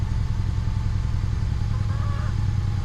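Honda car engine idling at a raised RPM with a surging problem, a steady, close, low mechanical rumble holding evenly throughout, without talk.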